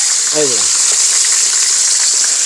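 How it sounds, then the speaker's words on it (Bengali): Eggplant fries in a pan on a multi-pot curry cooker, making a loud, even hiss that holds throughout, with a brief voice near the start. "এত সুন্দরভাবে ভাজি হচ্ছে হ্যাঁ কত সুন্দর ভাবে ভাজা হচ্ছে"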